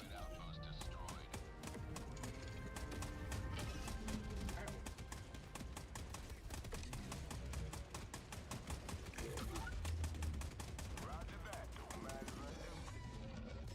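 Rapid automatic gunfire from a sentry turret in the game Helldivers 2, dense and continuous, sharp shots packed amid explosions and chaotic battle noise, with a person talking over it.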